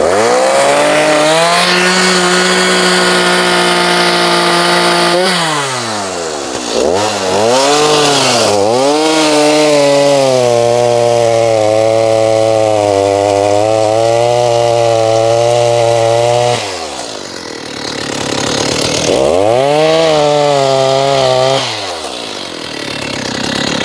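Chainsaw cutting through an uprooted shagbark hickory log near its root ball, loud and close, with the engine revving high under load, dropping to idle several times, then surging again as the cut continues.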